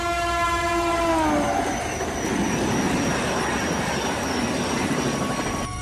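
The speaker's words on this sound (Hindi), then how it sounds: "रात के करीब 12 बजे अचानक बेगमपुर स्टेशन पर एक पुरानी ट्रेन आकर रुकी।" An old train pulls into deserted Begumpur station at around midnight, opening with a loud blast of its horn and then a steady, rumbling roll of wheels and carriages as it comes in and slows.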